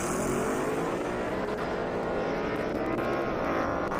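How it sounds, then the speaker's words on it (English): A Ford Mustang GT drag car launches at a half-mile airstrip drag race, its engine a steady, loud, dense roar that fills the whole stretch without pause and carries a slowly rising pitch as the car pulls away. "Great launch on that Mustang."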